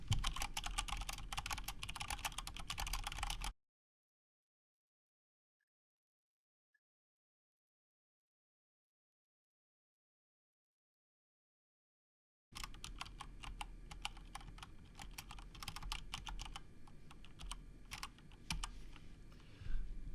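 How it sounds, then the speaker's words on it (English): Rapid typing on a computer keyboard, with dense clattering keystrokes at first, then a long dead-silent gap, then more brisk typing, close and fairly loud. "There's some typing"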